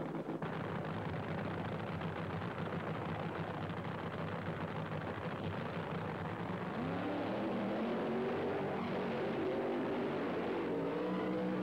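A nitro-burning Top Fuel dragster does a long burnout at a drag strip, a loud continuous engine roar with tire screech that swells and climbs in pitch toward the end, filling the whole stretch without talk.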